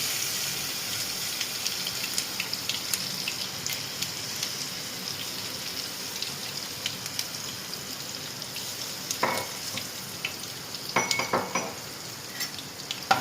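Asafoetida, crushed garlic and ginger sizzle in hot oil with mustard seeds, a dense steady hiss from the pan broken by occasional stirring scrapes and brief louder crackles; no voices.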